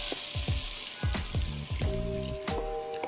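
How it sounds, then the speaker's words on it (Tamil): Tomatoes sizzle and crackle steadily in a hot pan, with scattered pops and a few clinks of a utensil against metal. "தக்காளி வதங்கிக்கிட்டு இருக்கு"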